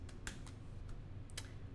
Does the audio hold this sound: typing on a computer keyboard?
yes